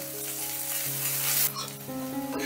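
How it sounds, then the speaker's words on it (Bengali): Finely chopped small onion fries in hot oil while being stirred, a bright close sizzle with a scraping surge midway, over a steady background hum of sustained tones. "পেঁয়াজটাকে হালকা করে একটু নাড়াচাড়া করে নেব।"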